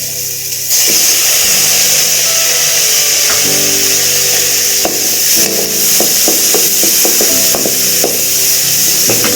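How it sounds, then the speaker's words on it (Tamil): Tomatoes and onions sauté in a pan for a paneer butter masala gravy, giving a steady loud sizzle with scraping and stirring clatter from a utensil throughout, and no talking. "தக்காளி வெங்காயம் கொஞ்சம் நல்லா வதங்கட்டும்."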